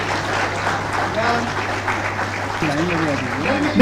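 Applause rings out for community health officers at an appointment letter ceremony for doctors in Jharkhand, a steady crowd clapping that lasts throughout while a voice speaks over it.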